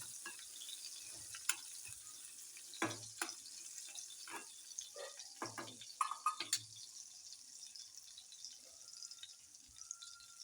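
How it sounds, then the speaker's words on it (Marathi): Quiet, scattered splashes and drips of water land in a pan, irregular and close, with faint hiss between them. "पाणी पण टाकायचं"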